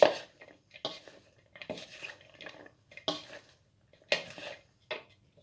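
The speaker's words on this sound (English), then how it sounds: "I'm going to mix this green salad together here" Green salad tossed in a bowl, a series of close clattering and rustling strokes in irregular bursts separated by short pauses, with utensils knocking the bowl, no voices.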